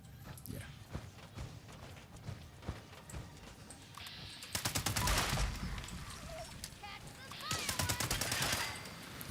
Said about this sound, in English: Okay, I'll catch the fireworks.